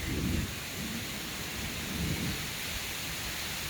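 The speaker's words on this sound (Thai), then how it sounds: "ฟ้าผ่าฟ้าผ่าตัวฟ้าผ่านะครับโอ้โห เกือบไปแล้วเกือบไปแล้ว" Heavy storm bringing a dense, steady rain hiss with low rolling thunder rumbles swelling twice, near the start and again around the two-second mark, with no one speaking.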